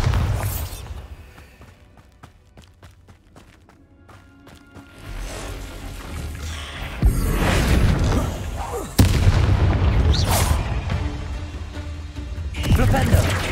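A Bombarda exploding spell cast in Hogwarts Legacy, heavy booming blasts with a sharp crack near the middle, rumbling debris and magical whooshes following, loud and close after a quieter opening.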